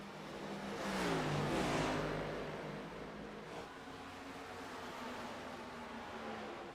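Race car engines from an iRacing NASCAR league race drone steadily, swelling louder around the first two seconds as a car revs past, then settling into a continuous mid-level roar with no talk.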